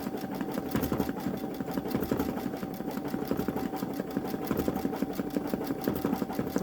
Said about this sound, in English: Got it going at 350 stitches per minute since we're in a very dense area of the design.